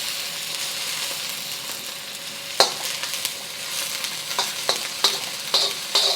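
Chilies, garlic and the white and light green parts of green onion frying in hot corn oil, a steady bright sizzle with occasional pops and stirring clinks, close and loud, no talking.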